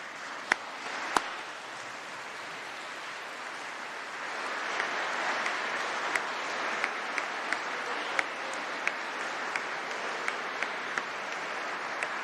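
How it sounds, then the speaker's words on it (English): Graduands at a University of Birmingham winter graduation ceremony applauding in a hall, a steady wash of many hands clapping at moderate distance that grows slightly louder partway through, with a few sharp individual claps. "please to stand up and give a round of applause to everyone who has supported and helped you."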